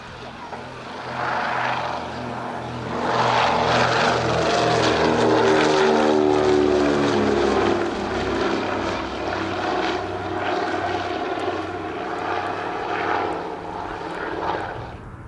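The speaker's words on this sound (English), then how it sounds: "we see it here in amphibious guise, getting airborne the consolidated PBY-5A Catalina" Consolidated PBY-5A Catalina amphibian takes off at an air show, its piston propeller engines roaring up to a loud, sustained drone and then easing as it climbs away, with a commentator's voice running over it.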